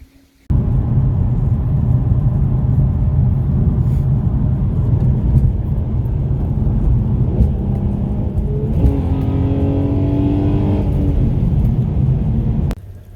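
Infiniti G35 coupe driving on the road, a loud steady engine rumble with road noise that holds throughout, briefly rising in pitch as it accelerates near the end, with no talking.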